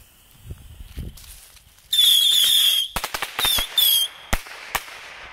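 Red bottle rockets launch one after another with shrill whistles, crackling bursts and sharp pops, loud and nearby after a few soft taps, with no talking.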